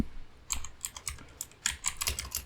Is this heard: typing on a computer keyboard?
yes